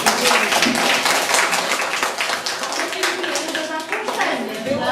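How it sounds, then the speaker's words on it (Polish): Applause for a children's performance team at a school show, with close, uneven hand claps mixed with children's and adults' voices chattering and calling out throughout. "Wielkie brawa dla całego zespołu."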